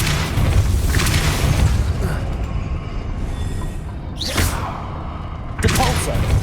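The Depulso spell in Hogwarts Legacy fires as a whooshing burst with a deep boom, repeated a few times over low game ambience, and a voice calls out between casts.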